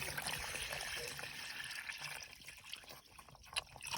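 Water pours steadily into a pig's water container, a continuous splashing fill that thins to trickles and drips near the end.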